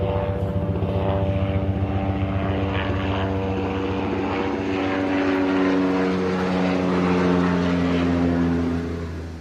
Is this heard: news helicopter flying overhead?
yes